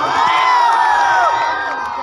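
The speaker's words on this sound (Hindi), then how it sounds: "एक जोरदार ताली सिद्धू जी के लिए एक जोरदार हल्ला कर देना।" A live concert crowd at a stage show cheers and shouts loudly, a dense mass of high-pitched whoops and yells holding strong for the whole moment.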